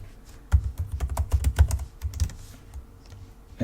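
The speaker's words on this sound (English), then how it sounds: "you'll need to type in the password for this user Eno," A password is typed on a computer keyboard at a Windows 11 machine: a quick burst of close, crisp key clicks, a pause with a few scattered taps, then one final sharp press, with no talk.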